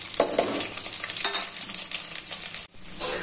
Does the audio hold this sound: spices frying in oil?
yes